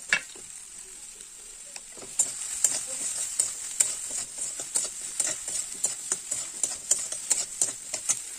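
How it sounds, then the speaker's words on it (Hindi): Soybean and lotus stem pieces frying in oil with a little salt: a steady close sizzle with regular ticking taps of a stirring spoon that grow busier after the first couple of seconds. "एक साथ में मिक्स करके मैं इसको फ्राई करूंगी थोड़ा टाइम।"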